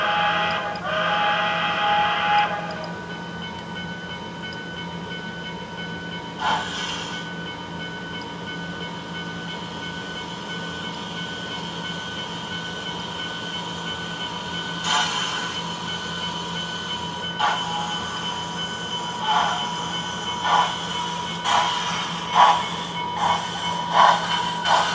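Steam locomotive air pumps run with a steady mechanical drone and hum, punctuated by periodic hissing and clanking bursts, with no talk.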